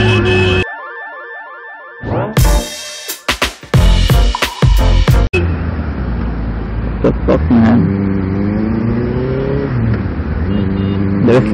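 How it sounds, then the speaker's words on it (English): Benelli TNT 600i motorcycle engine revs hard on the road, loud rising and falling roars with gear changes, preceded by a brief tonal electronic sound and close wind rush. "The sound of a bike, I just love it."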